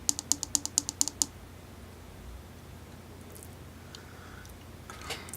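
Five quick sharp clicks on the fire button of an Aegis Legend vape mod, close and crisp in an even rhythm, followed by quiet hiss and faint handling noise.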